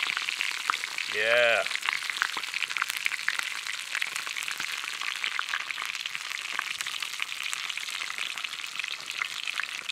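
A piece of fish fries in a pan outdoors on a canoe trip in Alaska, a loud continuous sizzle with dense crackling and spitting throughout, and a brief spoken word near the start.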